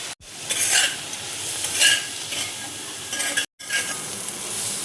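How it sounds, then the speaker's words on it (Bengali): Capsicum fries in a pan with salt and turmeric, a steady sizzle broken by repeated stirring scrapes and two short pauses, close and fairly loud with no talking. "হালকা করে দেখো আমি ভেজে নেব"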